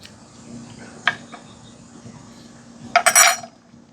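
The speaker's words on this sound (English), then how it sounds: "use this spoon to scrape out those ribs and any seeds that you don't want" A spoon scrapes the ribs and seeds out of a halved pepper being prepped for smoked bacon spinach poppers: one faint tap early on, then a short, close burst of scraping clatter near the end against quiet surroundings.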